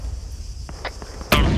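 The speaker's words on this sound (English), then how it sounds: "Mortar strike out on church." Mortar strike in the military game Arma: a few soft distant thumps, then one sharp, loud explosion near the end.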